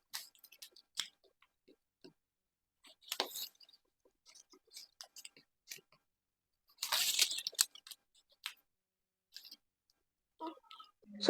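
Scissors cut out a paper dress pattern in a quiet room, with sparse, faint snips and crisp rustles spaced by silences and a brief louder burst midway.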